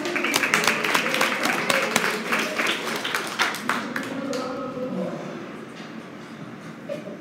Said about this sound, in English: Let's give Daddy a round of applause.